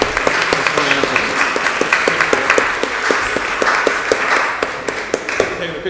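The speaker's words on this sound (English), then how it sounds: "A round of applause for our private sector partners and for FDIC." Audience applause at a city council meeting, with clear individual claps standing out over a broad wash of clapping, steady and fairly loud, with some voices in the crowd mixed underneath.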